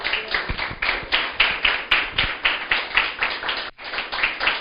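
A church congregation claps in a steady rhythm during a sermon, with many hands striking together in regular, even beats at a fairly close, full level. The clapping continues without speech over it.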